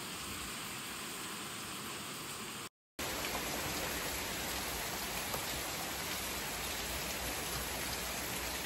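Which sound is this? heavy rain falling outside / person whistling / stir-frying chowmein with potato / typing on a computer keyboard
heavy rain falling outside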